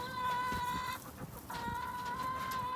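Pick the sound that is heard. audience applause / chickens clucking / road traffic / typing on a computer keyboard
chickens clucking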